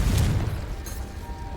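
A Confringo explosive spell blast in a Harry Potter video game, one short booming burst up front that quickly fades into a low rumble.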